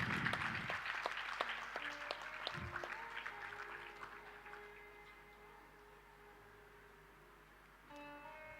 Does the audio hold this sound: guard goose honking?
no